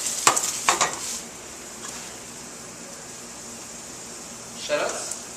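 Celery and leeks in a hot pan with some fat give a steady, soft sizzle, broken by a few sharp clinks and scrapes of a utensil against the pan in a kitchen.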